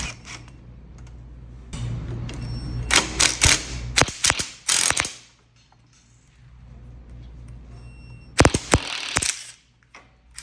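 A 7/16 wrench and T27 driver loosening cross member bolts on a motorcycle, heard as bursts of ratcheting clicks and sharp metallic clinks of tools, with quieter gaps in between.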